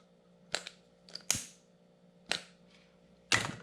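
A lighter is struck again and again to singe the ends of a San Juan worm fly held in a vise. Several sharp, close clicks and flicks come in quick bursts over faint background hum.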